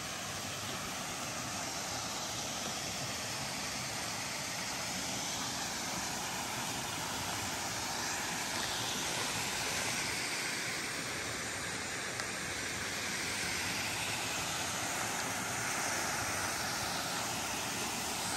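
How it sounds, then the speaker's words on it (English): Whispering Falls in Hocking Hills State Park pours in a steady, even rush of falling water, a constant broadband hiss heard from nearby without talk or change for the whole stretch. "Waterfall here."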